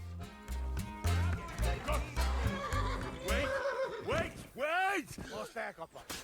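A horse neighs in the video game Kingdom Come Deliverance 2, a loud whinny with rising and falling calls and snorts, heard alone and close.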